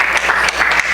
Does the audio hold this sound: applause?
yes